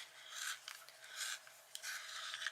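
Charcoal grey colouring pencil turned in a sharpener, three short close bursts of dry gritty grinding separated by brief pauses, quiet overall.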